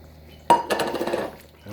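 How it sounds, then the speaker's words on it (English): Beef tipped into a pan of sweet and spicy Szechuan sauce, a sudden clatter and sizzle of meat hitting the pan followed by a brief scrape of stirring, close and fairly quiet. "Now we'll add the beef."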